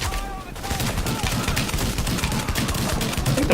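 AA-12 shotgun firing fire rounds in the video game The Division, rapid repeated blasts in a sustained loud barrage of gunfire, close, with faint speech mixed in.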